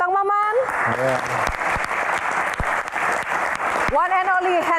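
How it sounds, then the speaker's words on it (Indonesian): Audience applause at an Indonesian Q&A talk event on the hajj quota and cartels, dense steady clapping that fills the whole stretch, with a host's amplified voice at the start and again at the end. "Yang pertama kita berikan tepuk tangan untuk Kang Maman."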